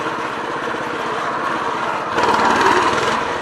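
A minibike engine revs hard while the rider lifts into a wheelie, a loud, buzzing high-pitched drone that holds steady and then swells louder toward the end.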